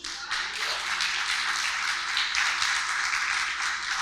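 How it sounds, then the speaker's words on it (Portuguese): A church congregation at a Baptist service claps together for several seconds, a dense, even wash of hand claps that stays loud and steady with no voices on top. "Você pode aplaudir o nome de Jesus?"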